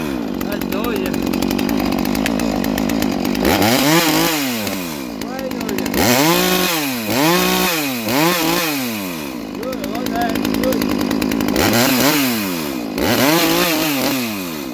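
A Husqvarna 236 X-Torq or Farmertec G382 chainsaw with an opened muffler runs in a wood yard, loud and close, idling then repeatedly revving in sharp rising-and-falling bursts, with a voice talking at times.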